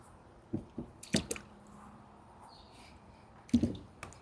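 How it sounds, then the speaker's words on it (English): Freshly harvested potatoes being washed by hand in a bucket of water: several close wet squishes and splashy drips in small clusters, separated by quiet pauses, with no talking. "washing these potatoes to get the ants off of them"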